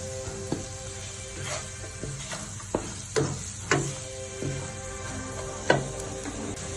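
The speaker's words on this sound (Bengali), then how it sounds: "এখন আমি পেঁয়াজ কুচিটাকে অল্প সামান্য 1-2 মিনিট একটু নাড়াচাড়া করবো।" Chopped onion sizzles steadily in a hot pan for a mustard hilsa fish dish, with a few sharp clicks and scrapes as a spoon stirs it, close and fairly quiet.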